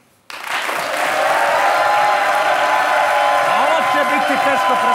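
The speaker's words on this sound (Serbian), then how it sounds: "Tako da molim publiku da date buku prvo za naše goste." A television talk show studio audience erupts into loud, sustained applause and cheering after a sudden start, a dense roar of clapping and shouts. Whistles and voices rise out of the crowd noise.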